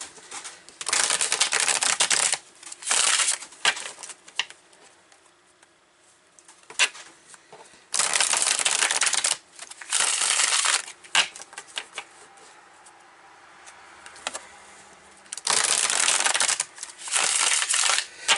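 Tarot cards being shuffled by hand in several bursts of crisp riffling and flapping, separated by short quiet pauses, close and clear with no voices.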